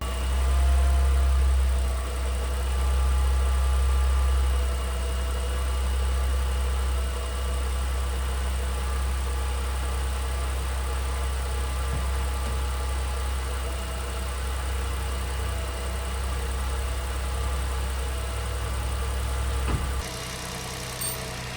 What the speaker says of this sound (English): now what's left to do is just start the car and let it work the temperature